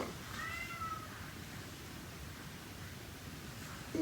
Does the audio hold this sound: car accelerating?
no